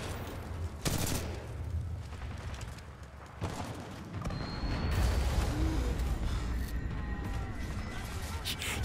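Rapid automatic gunfire from a weapon in Titanfall 2, a dense continuous barrage with heavy low booms and bursts of crackling shots, loud and close throughout.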